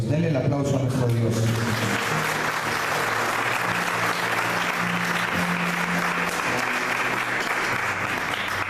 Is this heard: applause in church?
yes